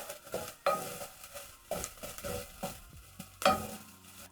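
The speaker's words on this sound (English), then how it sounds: "Stir in the garlic. Cook until fragrant." Garlic being stirred in a cooking pot on the stove, with a series of distinct scraping strokes of a spoon against the pot at a steady rhythm, light sizzling between them, close and fairly quiet.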